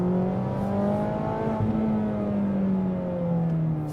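Mazda Miata ND3 engine revving continuously for about four seconds, a loud, steady tone that climbs and eases in pitch as it is heard from close by, with no talking.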